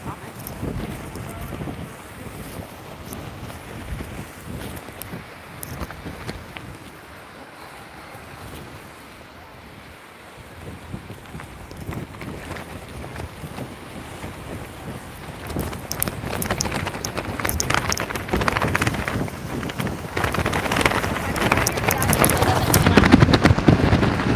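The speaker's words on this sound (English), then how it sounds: "Really blowing strong out here right now." Strong wind from Tropical Storm Nicole roars across the bayfront seawall in St. Augustine, Florida, a loud continuous rush buffeting the microphone that dips briefly midway and then builds harder toward the end.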